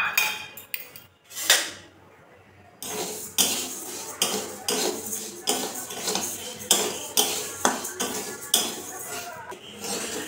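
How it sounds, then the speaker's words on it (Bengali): Moong dal being dry-roasted in a wok, stirred with a metal spatula that scrapes and clinks against the pan in a rapid, regular rhythm, loud and close, after a few sharper knocks at the start. "ডালটা এভাবে অটোমেটিক নেড়ে নেড়ে ভাজতে হবে"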